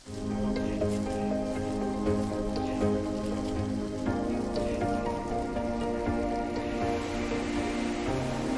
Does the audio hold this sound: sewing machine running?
no